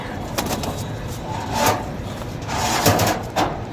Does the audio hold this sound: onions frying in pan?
no